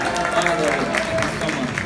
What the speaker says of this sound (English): One more round of applause for Sami Yusuf, ladies and gentlemen